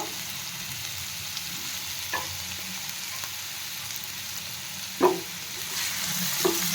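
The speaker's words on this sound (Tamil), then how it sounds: "அதையும் நல்லா எண்ணெய் சட்டியில் போட்டு நல்லா ஃப்ரை பண்ணிக்கணும்" Onion, green chilli and curry leaves fry in a pan of oil for a mutton gravy, giving a steady soft sizzle with a few clinks of stirring, the loudest near the end, and no talking.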